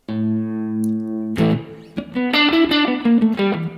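Electric guitar played through a Neural DSP amp model with a great-sounding spring reverb: a sustained chord rings out, then a quick run of single notes, each tail washed in springy reverb.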